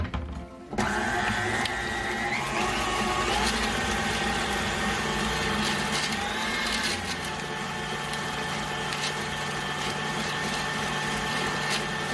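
Electric mixer blending creamy banana bread batter with sugar and eggs, a loud steady motor whine starting abruptly after a brief quiet moment and running continuously close by, with slight changes in pitch as it churns.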